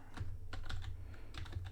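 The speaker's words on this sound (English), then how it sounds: "So let's just type that in" Quick bursts of typing on a computer keyboard, several clustered key clicks, then a pause, then another flurry, close and crisp with no voices.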